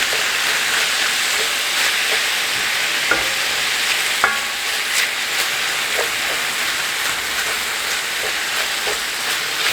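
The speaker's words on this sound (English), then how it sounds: "I'm on medium heat and I'm just trying to break up some of this meat" Ground meat sizzles steadily in a skillet over medium heat, a loud constant fry with scattered scraping clicks as a utensil breaks it up, no speech.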